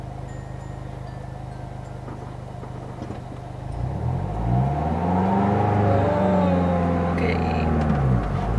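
A manual transmission car pulls away with its clutch burning, an idle rumble swelling into a loud revving strain partway through, with a brief spoken word near the start.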